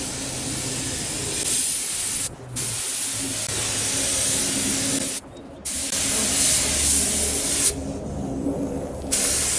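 Aerosol spray paint hisses onto junkyard headlight parts from a Suburban during a third coat, three long, loud bursts broken by short pauses.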